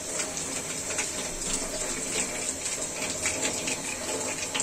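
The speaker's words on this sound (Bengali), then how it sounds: "ঢাকনাটা ধুয়ে নিচ্ছে" Running tap water splashing steadily while a pot lid is rinsed under it, a constant hissing gush with small clatters and splashes of the lid being handled.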